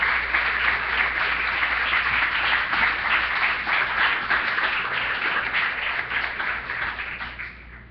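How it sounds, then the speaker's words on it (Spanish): A church congregation clapping for the Lord, a loud sustained round of many hands applauding together, easing off slightly toward the end, with no voices. "Démosle palmas al Señor."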